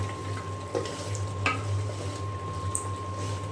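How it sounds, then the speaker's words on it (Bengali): Meat sautéing in a pan for a home-style curry, a steady sizzle under intermittent stirring scrapes and a few metallic clinks, accompanied by a constant low hum, with no speech. "গোশ অনেকটাই কষিয়ে নেওয়া হয়ে গেছে, আমি আরও একটু ভালো করে কষিয়ে নেব"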